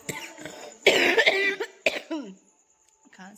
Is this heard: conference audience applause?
no